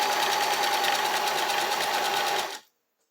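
A domestic sewing machine stitches knit fabric at a fast, steady whirring hum with a fine rapid mechanical pulse, running loud and close before stopping abruptly into silence.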